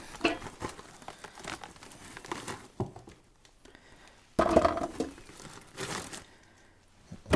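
Seed corn shifting inside a plastic bag as it is handled, giving soft, irregular crinkling and rustling at close range, with a louder burst of crumpling about midway through.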